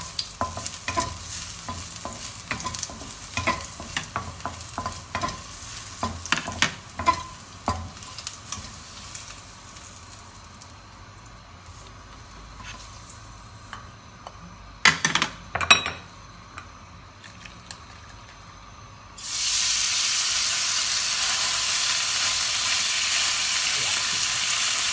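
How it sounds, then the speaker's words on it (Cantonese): Beef hitting a hot wok after garlic has been fried in oil, with utensil clatter and stirring scrapes early, then a loud, steady sizzle that swells and holds to the end. "炒香咗之後咧，我哋就可以落牛肉㗎啦"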